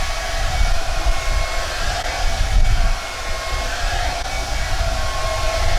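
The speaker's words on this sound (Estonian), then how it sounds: "me oleme nüüd Sidni juuksed ära föönitanud" A hair dryer blows steadily and loudly at close range while someone's hair is being blow-dried, a continuous broadband rush with slight fluctuations throughout.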